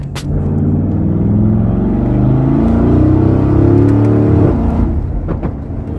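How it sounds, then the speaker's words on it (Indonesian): A 2022 Mercedes-Benz G63 with a V8 biturbo engine and Valvetronic exhaust, revving loudly and close up in a workshop, with a deep rumble that swells and holds for several seconds before easing off. "G Class G63 tahun 2022 Mesinnya V8 biturbo Kita gas dikit ya guys"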